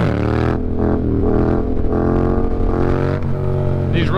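A tuned 2018 Yamaha MT-07 motorcycle accelerates hard on uneven roads, its loud, close engine note climbing steadily in pitch through the gear with a brief dip partway.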